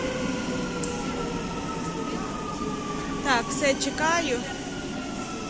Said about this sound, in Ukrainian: Ось там уже на ту сторону приїхало метро.